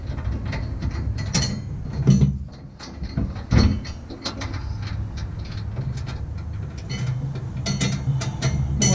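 Ratcheting and clicking of tools tightening hitch bolts during a receiver hitch install on a Nissan Frontier, with scattered metallic clacks and a couple of louder knocks, close and steady throughout.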